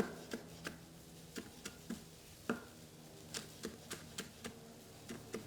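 Knife finely chopping a green chili on a board: a run of quick, crisp taps in an irregular rhythm, close and fairly quiet, with no voices.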